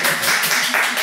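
A burst of hand clapping rattles at moderate volume, a quick uneven patter of applause that lasts about a second.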